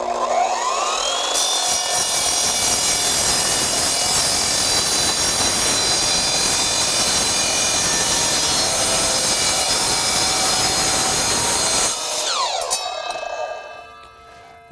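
An Evolution multi-material miter saw spins up and cuts through thin metal tubing with a loud, sustained, high-pitched grinding whine that lasts about ten seconds, then winds down at the end of the cut.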